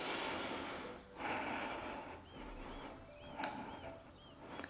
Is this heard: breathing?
yes